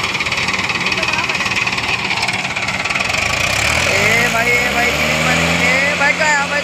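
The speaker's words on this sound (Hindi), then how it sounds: "देखो भाई ला रहा है हमारा ट्रैक्टर।" A Mahindra tractor engine labours during a friendly tug-of-war between a 575 and a 585. A loud, rough diesel throb runs throughout and climbs into rising revs partway through, under voices in the background.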